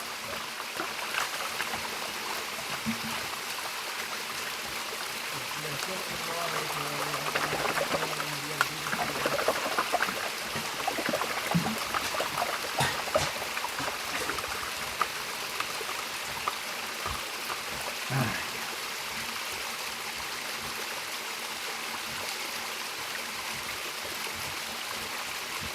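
Water flowing and trickling steadily as a full bucket load of creek gravel is washed down at a gold mining camp, a continuous close stream with brief splashes and no talk.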